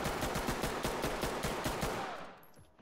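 Pistol fire in the tactical shooter game Ready or Not: a quick, regular string of about ten close, sharp shots, then a short fading tail.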